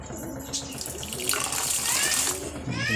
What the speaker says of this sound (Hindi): पानी ऐड करवा मिक्स करने